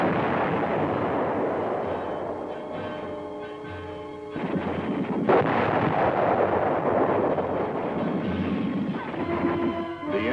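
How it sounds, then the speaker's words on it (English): Heavy fire from enemy tanks and anti-tank guns against advancing tanks and infantry, a dense loud rumble of booming blasts and battle noise with a heavy rise partway through, and no speech. "the tanks meet heavy fire from enemy tanks and anti-tank guns."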